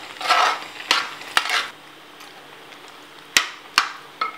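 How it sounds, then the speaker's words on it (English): A spoon scrapes and clinks against a pan while sugar is mixed into beetroot halwa, giving a few sharp metallic taps between soft stirring swishes, close and without speech. "Now we'll add sugar into it. We will mix it properly."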